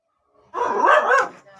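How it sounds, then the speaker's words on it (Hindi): A playful female pet dog named Gracy gives one close, loud bark-like vocal burst, yipping and whining toward her owner. "अब मेरे ऊपर भौंक रही है कि मुझे प्यार करो।"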